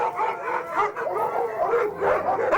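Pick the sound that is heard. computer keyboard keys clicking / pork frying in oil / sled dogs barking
sled dogs barking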